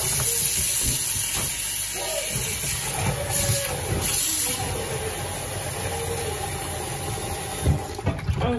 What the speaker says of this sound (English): Now I'm going to use water to wash it off, and the eyes will come off easily.